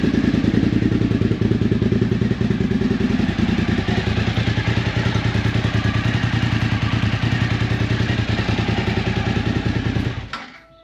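A Suzuki motorcycle engine runs steadily at a loud, close idle with a rhythmic mechanical clatter, then cuts off abruptly near the end, leaving quiet.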